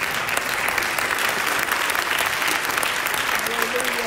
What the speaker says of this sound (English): can we give the Lord a clap offering?